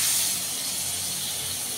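Water splashed into a pan of frying poppy seed and melon seed paste sets off a loud, steady sizzling hiss that eases slightly after the first moment, with no voices.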